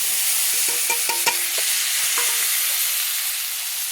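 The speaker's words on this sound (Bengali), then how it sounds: "তো পেঁয়াজগুলোকে আমি লাল লাল করে ভেজে নিচ্ছি।" Chopped onions, about three, frying in a pan for a prawn curry, a steady sizzle broken by several sharp clattering stirs of a spoon against the pan, close and alone.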